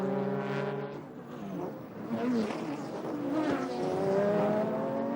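Race car lapping the TI Aida circuit in Japan during a 2004 JGTC round, engine whining with shifting pitch and a rising, falling drone as it passes, audible through the whole stretch.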